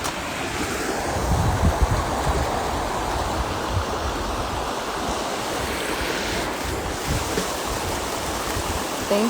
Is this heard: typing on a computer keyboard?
no